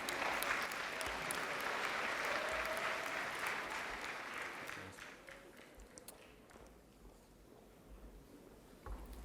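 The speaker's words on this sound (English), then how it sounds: "Another round of applause for everyone." Audience applause at a university new student convocation, a broad wash of clapping from a large crowd that is loud at first, then thins and fades to scattered claps.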